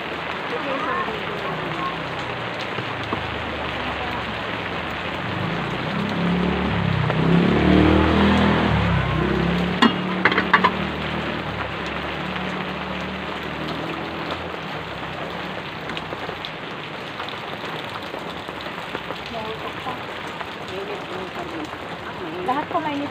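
Steady rain falling on surfaces at a roadside food stall, a constant hiss throughout with people talking nearby over it.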